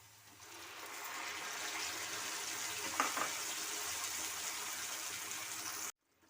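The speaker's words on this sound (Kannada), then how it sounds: "ಟೊಮೆಟೊ ಸ್ವಲ್ಪ ಹಸಿ ವಾಸನೆ ಹೋಗೋವರೆಗೂ ನಾವು ಇದನ್ನು ಫ್ರೈ ಮಾಡ್ಕೋಬೇಕು" Tomato puree frying in a pan for palak paneer, a steady hissing sizzle that swells in the first second and holds evenly before stopping abruptly near the end.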